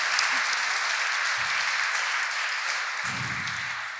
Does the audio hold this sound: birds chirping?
no